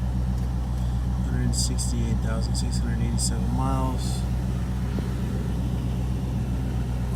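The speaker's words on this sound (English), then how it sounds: "RPMs holding steady on a cold start." A 1994 Range Rover County long-wheelbase engine idles steadily after a cold start, a low, even hum under a voice that speaks briefly partway through.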